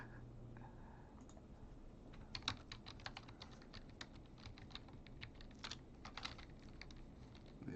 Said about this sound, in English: Oh, I'm typing wrong.